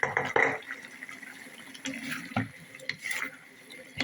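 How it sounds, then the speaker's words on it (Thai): Green beans and pork are stir-fried in a pan with scattered scraping, clattering stirs and sizzle, close and uneven. "ผัดถั่วผัดถั่วใส่หมู"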